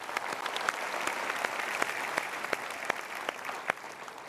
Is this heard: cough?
no